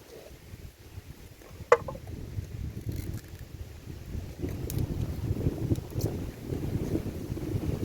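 Strong wind gusts buffet the microphone outdoors with a low, rumbling roar that swells and stays loud. A sharp knock or clack is heard early on, and there is no talking.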